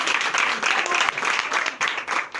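A church congregation applauding during Sunday worship in Benin, dense continuous clapping close by with voices mixed in.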